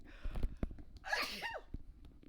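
A single close, loud human sneeze, preceded by a couple of quick breathy intakes and followed by quiet.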